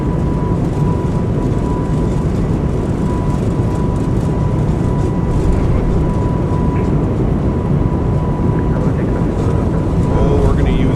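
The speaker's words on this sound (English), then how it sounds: "Auto throttle kicked in. Takeoff power set." Airbus A220 jet engines spooling at takeoff power in a flight simulator, a loud steady broadband roar with a faint constant whine, continuous throughout the takeoff roll under an occasional voice.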